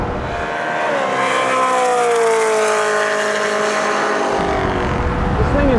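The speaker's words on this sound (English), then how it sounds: "I guess I'm just gonna paddle shift it like a supercar" BMW M car on a racetrack, paddle-shifted under hard acceleration: a loud, continuous engine roar heard from close by, its pitch sliding down and then climbing as gears change.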